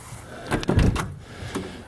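A car door on a 1972 Pontiac LeMans GT, a GTO clone, is worked: a short cluster of close knocks and a solid thud as the door is opened or shut, with no talking.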